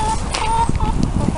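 Backyard chickens clucking softly near a box as one hops out, a mix of scattered, fairly close clucks and light shuffling under a steady low background, with a voice present.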